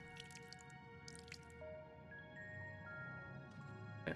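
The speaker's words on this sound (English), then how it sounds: "Get water splashed on us." Game splashes of water sound in Final Fantasy XIV, several soft, quiet bursts of spray and dripping over a sustained tonal musical background.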